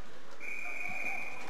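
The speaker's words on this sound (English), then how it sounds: "Whistle is blown." A referee's whistle at a college ice hockey game between Temple and Navy cuts through the rink. It is one sharp, steady, shrill blast of about a second over faint arena background.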